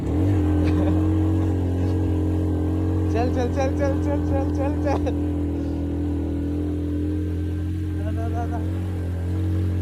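A Honda CD70 motorcycle engine drones steadily while laboring up a steep mountain road toward Jabal-e-Noor, loud and close throughout, with a voice briefly urging it on partway through.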